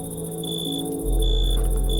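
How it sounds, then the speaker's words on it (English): Crickets chirp at night in a modded Minecraft game, a steady repetitive high-pitched chirping pulse over a low hum, with a deeper throbbing tone joining partway through. "It's nighttime, you hear crickets. Chirp, chirp."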